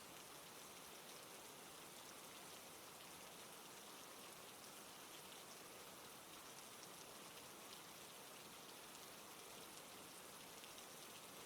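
Steady rain falling, a dense even patter of drops on surfaces that holds constant throughout with no voices.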